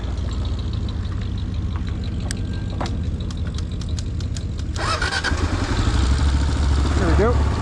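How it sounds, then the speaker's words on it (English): A Kawasaki KLR motorcycle sets off on a trail, its engine running steadily up close, then revving up and pulling away toward the end with rising and falling pitch; a voice talks briefly. "All right, here we go on the old KLR."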